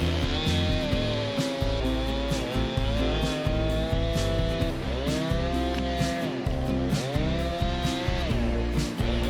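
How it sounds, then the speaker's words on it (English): A Husqvarna 455 Rancher 50cc chainsaw cuts through a ponderosa pine log, its loud, close engine drone rising and falling in pitch over and over with a steady rasp and no talk. "pulling that Husqvarna 455 Rancher out. That's a 50cc saw"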